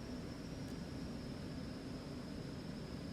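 Cessna Citation 510 Mustang jet engines in the X-Plane 11 flight simulator throttling back, a steady, loud broadband roar with a low rumble and a faint high whine held throughout, no talking.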